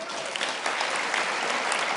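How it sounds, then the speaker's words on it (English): A crowd applauds students at an awards ceremony for the NSTF Brilliants Programme, a dense, even wash of clapping that holds steadily throughout. "Give the students a last round of applause, please."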